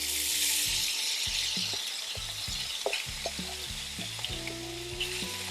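Bacon and corn fry on a Blackstone griddle with a steady, close sizzle, while a spatula scrapes and taps the metal surface now and then as the pieces are spread into a single layer.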